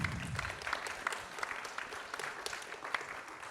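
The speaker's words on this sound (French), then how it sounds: "Je pense qu'on peut applaudir Marie-Pierre." An audience claps steadily at a conference session on responsible economics in Guidel, sustained applause filling the room at moderate volume without talk.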